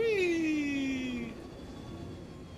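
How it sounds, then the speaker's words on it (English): A spaceship afterburner in the space game Star Citizen roars with a high whining tone that sweeps downward over about a second, then fades into a steady engine hiss, with no talk over it. "Afterburner for fucking days."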